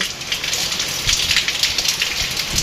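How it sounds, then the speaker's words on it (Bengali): Heavy rain with wind in Faridpur district pours down as a loud, dense hiss of drops hitting surfaces, steady and close for the whole stretch with no voices. "প্রচুর পরিমাণ বৃষ্টি হচ্ছে বাতাস হচ্ছে এবং বৃষ্টি হচ্ছে ফরিদপুর জেলায়"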